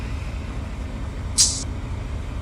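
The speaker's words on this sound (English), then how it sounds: "Releasing the independent brakes." In a video game, a train's independent brakes release with a short, sharp burst of air hissing out once over a low, steady locomotive idle.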